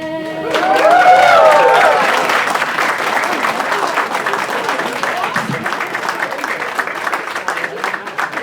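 An audience applauds after the national anthem at Reid Hospital's topping ceremony, clapping and cheering swelling loudly and then sustaining, with a sung note fading at the start.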